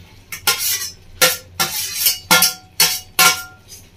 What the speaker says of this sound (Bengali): ডিমগুলো দিয়ে এইভাবে একটু নাড়াচাড়া করে নেবো।